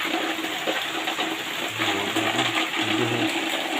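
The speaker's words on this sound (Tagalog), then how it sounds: "Naipon yung tubig mga guys. Ayan. Bumabaha na dito guys." Typhoon flood water in Subic flows steadily and continuously, a broad wash of rushing noise with a low gurgling undertone and no voices.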